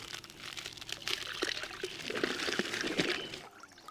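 Salt pouring into a large bucket of water, a granular trickling and splashing hiss lasting a few seconds before tapering off.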